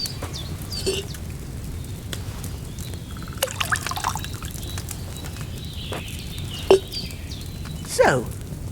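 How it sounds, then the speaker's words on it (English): Wine poured into an alchemy cauldron in Kingdom Come: Deliverance 2 makes faint, sparse drips and short liquid trickles over a low steady ambient hum, with a few brief splashes toward the end. "First, you have to pour the right base into the cauldron."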